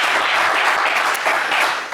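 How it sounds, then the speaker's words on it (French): Studio audience applause on a French TV game show, a loud, dense wash of clapping that holds steady for a couple of seconds. "On vous applaudit bien fort"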